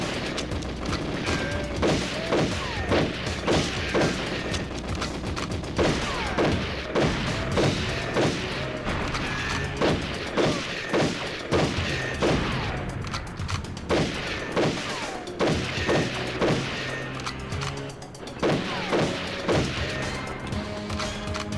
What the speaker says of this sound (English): I was just firing to make sure everything was dead.